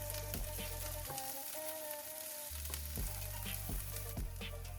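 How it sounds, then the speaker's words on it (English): Chopped bell peppers frying in a pan for a one-pan sausage breakfast, a steady hiss of sizzling oil with a handful of spaced scraping stir strokes, close and moderately quiet, with no speech. "Stir everything together and just let it cook until it starts to get some color."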